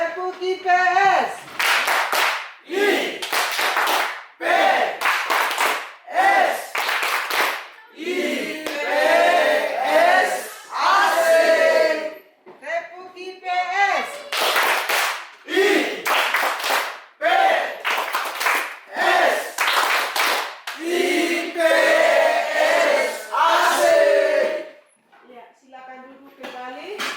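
Classroom of students performing a rhythmic patterned group clap, bursts of sharp unison claps in repeated phrases with short gaps between them, loud and close, alternating with chanting voices.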